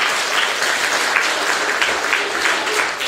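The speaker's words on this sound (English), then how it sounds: "please give another round of applause to our amazing cast" Theatre audience applauding the cast after a performance of The Snow Queen, a dense steady wash of clapping from a full crowd that holds evenly throughout.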